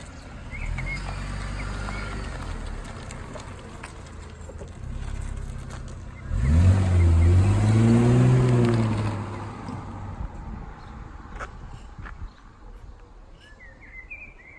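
A Mercedes CLK car pulls off a driveway, its engine rumbling up in a rising surge mid-way before fading as it moves away, with faint birdsong in the background.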